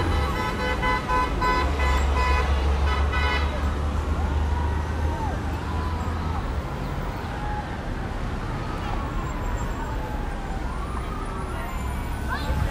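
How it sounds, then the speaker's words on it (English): Car horns honk loudly for a few seconds over constant street traffic noise, followed by a lingering din with voices in the background. "Honks of support."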